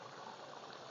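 Fish curry with fried large fish and tender bottle gourd greens and stems boils in a pot, giving a steady, close, continuous bubbling hiss with no talk.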